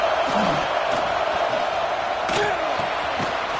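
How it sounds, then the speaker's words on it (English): Stadium crowd in a college football video game, LSU hosting San Jose State, gives off a steady dense roar with scattered whoops and shouts, while a commentator talks over it. "Listen to the crowd energy here in the early going."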